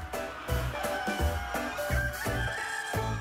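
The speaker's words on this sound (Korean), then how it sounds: "울음소리도 우렁찬 이 닭들이" Korean native laying hens and roosters, a restored native breed, crow loudly and repeatedly on a farm, several overlapping cock-a-doodle-doo calls with clucking in between.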